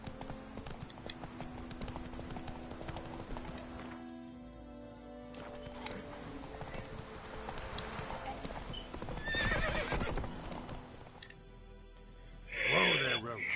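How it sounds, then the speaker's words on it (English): Roach, the horse in the Witcher 3 video game, gallops with steady clip-clopping hoofbeats and whinnies, mixed with game music and character voices talking over it. "Whoa there, Roach."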